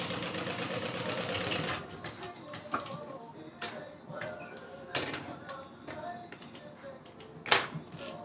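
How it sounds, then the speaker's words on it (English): A sewing machine runs in short bursts while stitching a classic zip-around wallet, giving a quick mechanical rattle that starts and stops several times, close up. A voice speaks between the bursts. "I'm going to sew this down"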